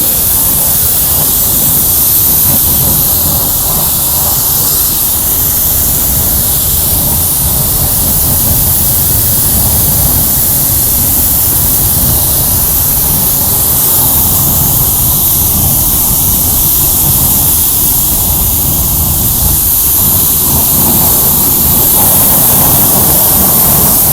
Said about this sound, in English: Let's rinse off the wheels and